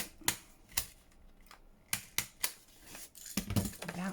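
Stapler pressed through folded paper pages of a handmade junk journal, giving several sharp, close mechanical clicks and snaps in an irregular rhythm, followed by a softer rustle of paper handling.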